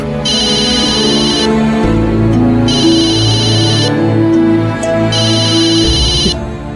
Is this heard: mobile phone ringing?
yes